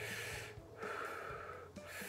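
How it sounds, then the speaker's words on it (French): Slow, close breathing from a person lying still during a tattoo session: loud, airy inhales and exhales in a steady rhythm, with no talk. "là vous entendez ma respiration"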